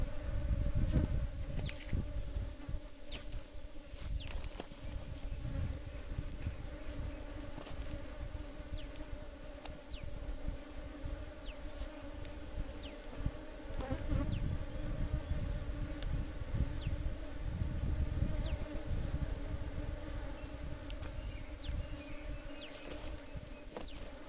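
Honey bees buzz steadily around a hive on farmland, a dense continuous drone with individual insects zipping close past, loud and persistent throughout with no voices.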